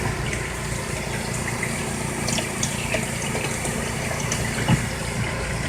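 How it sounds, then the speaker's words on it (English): A ZENY portable mini twin tub washing machine refills one side with water, a steady rushing, gurgling flow under a constant motor hum, close and even throughout with no talking. "So this side here filling back up."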